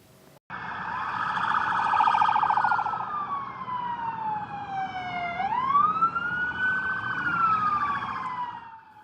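Police and emergency vehicle sirens wail in the aftermath of a shooting in Phoenix, Arizona, one loud siren sweeping up and down in long slow glides with other sirens layered beneath it.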